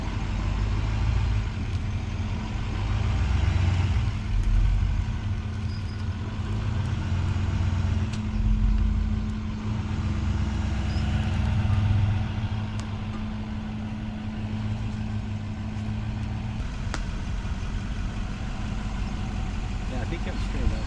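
A two-wheel drive vehicle's engine runs steadily while driving across a ranch, a moderate low hum with rumbling road noise throughout, and people talking over it.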